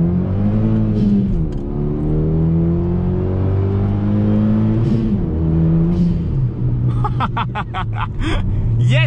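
A Renault Megane 2 RS F1 Team R26 engine revs up and pulls hard through the gears, the loud, rising drone climbing in pitch, dipping at shifts, and building again from inside the car.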